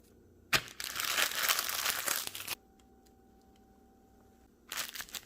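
A half-used plastic bag of frozen cut okra is handled, giving close crinkling for about two seconds, then a quiet pause and another short crinkle at the end.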